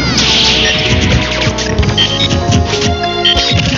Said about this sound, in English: he started fishing for those up smashes